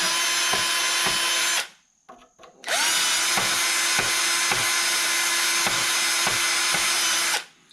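A stuck, oiled brake caliper glide pin is hammered with a power tool in two loud, sustained bursts of rapid, regular impacts, separated by a short pause.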